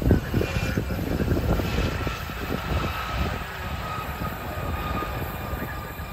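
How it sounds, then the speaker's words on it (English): An Embraer E-135 jet passing at Cleveland airport, a broad continuous engine roar with low rumble, strongest at the start and slowly easing off, heard from a moderate distance outdoors with no talking. "I think it's an Embraer"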